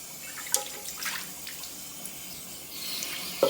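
Tap water runs into a sink while a sponge is rinsed during dishwashing, a soft, close, continuous splashing with a few brief clinks and splashes.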